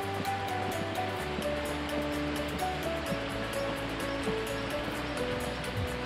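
Steady broadband rush of a river flowing down from a waterfall, continuous and fairly quiet, with a low mechanical hum underneath and no talking.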